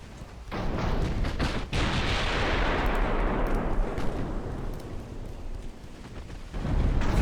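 Battleship main-gun salvos in the naval warfare game Ultimate Admiral Dreadnoughts, with a Kongo-class battleship firing. Heavy booming blasts run together into a dense, continuous roar that slowly fades and then surges again near the end.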